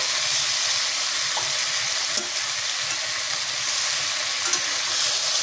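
Vegetables fry and are stirred in a pan while cooking drumstick curry, a steady loud hiss of sizzling oil with a few soft spatula knocks, no talking.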